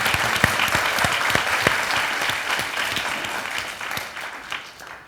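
A crowd at a Darfur advocacy event applauds Mike Capuano, a full round of many hands clapping with individual sharp claps standing out near the front, tapering off and thinning toward the end.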